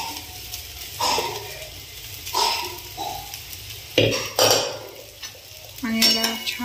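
Cooked rice with fried spices is stirred in a pan, with a spatula scraping and clanking in bursts over a soft sizzle. The sound is close and uneven, with no voices.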